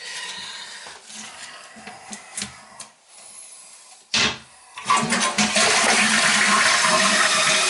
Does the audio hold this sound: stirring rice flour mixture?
no